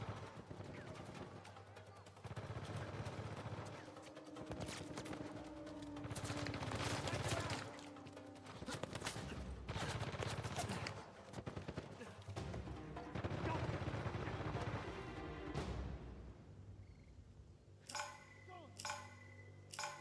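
Rapid bursts of gunfire and fusillades sound in an Uncharted 4 firefight, layered over game effects and music, while a player talks intermittently above the shooting, and it ends with a few metallic dings.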